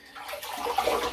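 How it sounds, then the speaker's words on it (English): Water splashing in a bathroom basin during a shave, a short run of close wet sloshes and trickles building slightly toward the end, with no one talking. "Now a splash of the water in the basin."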